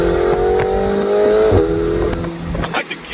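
A 2022 McLaren 720S Performance accelerates hard, its engine rising in pitch with quick gear shifts cutting through, loud and close from inside the car.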